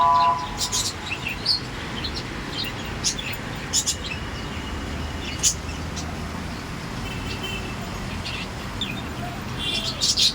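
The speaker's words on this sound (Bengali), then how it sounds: "এই বৃষ্টিতে আমার পাখিগুলা কি করতেছে চলেন দেখাই" Pet birds chirp in short, scattered bursts over the steady hiss of rain falling on a cloudy afternoon, with a faint hum of road traffic in the background.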